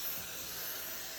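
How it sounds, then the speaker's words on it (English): Lubricant sprays from an aerosol can into the ball channel of a First Strike T15 V2 paintball magazine, one short steady hiss heard up close. "I'm going to grab this lubricant and I'm going to spray in the ball channel"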